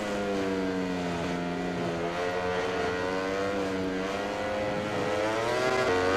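A Ducati MotoGP racing bike in the MotoGP 20 video game screams at a sustained high pitch, bouncing off the rev limiter with a wavering, buzzing drone that stays loud and close throughout.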